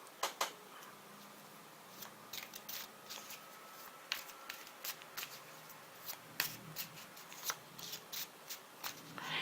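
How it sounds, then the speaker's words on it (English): A deck of tarot cards being shuffled, with a string of soft, crisp card riffles and slaps in an uneven rhythm, close and fairly quiet against a low background. "I'm going to pick clarifying cards now"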